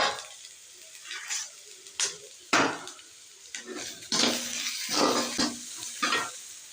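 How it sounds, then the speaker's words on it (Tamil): Onions sautéing in a pan for keerai poriyal, a soft sizzle broken by repeated sharp clanks and scrapes of a spoon against the pan, close and with no voices. "வெங்காயம் நல்லா வதங்கட்டும்"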